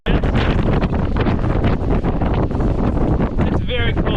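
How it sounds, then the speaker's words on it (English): Loud, steady wind roars and buffets against the microphone on the summit of Flat Top Peak near Anchorage, Alaska, a continuous broadband rush with gusty surges throughout. "So it looks like the wind is coming from all directions."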